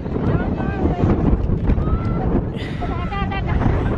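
Strong wind on Mount Hermon in winter roars and buffets the microphone throughout, a constant low rumble with gusts, while a person talks over it.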